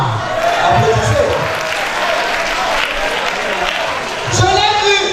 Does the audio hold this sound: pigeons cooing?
no